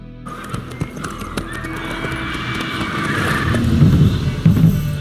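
Roach, a horse in The Witcher 3 video game, lets out a loud whinny over clip-clopping hooves, with game background noise building up behind it.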